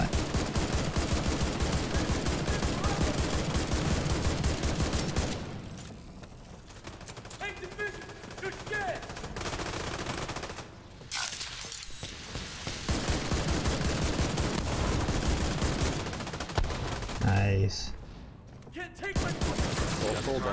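Heavy automatic gunfire and bursts of shooting from the video game The Division 2 in the Dark Zone come in dense volleys, with brief lulls between loud stretches, and a voice talks over parts of it.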